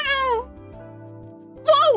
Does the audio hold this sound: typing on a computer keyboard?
no